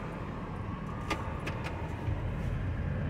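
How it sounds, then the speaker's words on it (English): A car or van rolls along close behind someone near two old haunted houses, its steady engine and road noise forming a continuous low rumble with a few faint clicks over it. "There's a car or van behind me"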